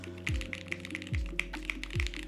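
Mechanical keyboard fitted with Vint black switches and a normal plate, typed in a few quick bursts of clacky keystrokes, close and fairly soft, with no talking.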